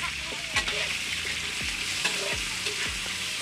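Thai green curry frying in oil sizzles steadily in a pan, with a continuous crackling hiss and occasional soft stirring scrapes close by.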